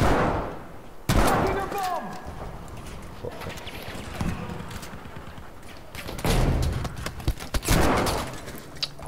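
Gunfire from an online multiplayer shooter game comes in sharp loud cracks and short bursts amid cluttered battle noise, with players talking over the action.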